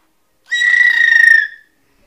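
A single sustained whistle, a clear, bright tone held for about one second, close and alone, with silence before and after.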